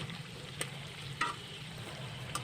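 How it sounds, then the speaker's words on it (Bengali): Prawns frying in mustard oil in a pan, a steady soft sizzle with a few brief sharp scrapes or clacks as the pieces are flipped, no talking. "এর মধ্যে আমি মাছগুলোকে এপিট ওপিট করে ভেজে নিব।"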